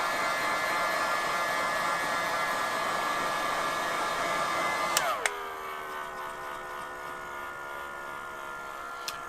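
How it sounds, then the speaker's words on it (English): A heat gun blows steadily while softening the glue on a GoPro Hero 8 camera body. Its loud, constant whine and rush of air hold for about five seconds, then the pitch drops sharply as it powers down and the fan winds to a quieter hum. "let's soften up this glue with a heat gun"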